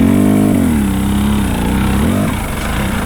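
A dirt bike revs its engine through tight woods during an enduro hare scramble, with a steady loud drone and rising and falling pitch as the rider works the throttle. The sound is continuous and near, with no speech.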